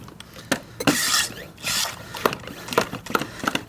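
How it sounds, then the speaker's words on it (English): Degreaser spray pump worked by hand on a GC8 Subaru Impreza during an oil and gasket change, giving several rough, rasping strokes and hissing bursts in uneven rhythm, close and fairly loud. "Sorry for the nasty sounds. That's just what the pump does."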